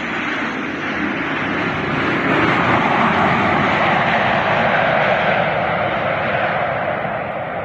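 A Jet2 airliner arriving from Glasgow roars past at Alicante airport, a loud, steady engine rush that swells and holds for several seconds, heard on its own.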